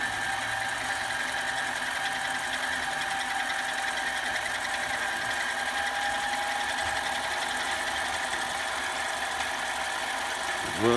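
Metal lathe spinning steadily at around 650 RPM while a dead center is made, a continuous whirring mechanical drone with a steady whine, loud and close throughout without talking.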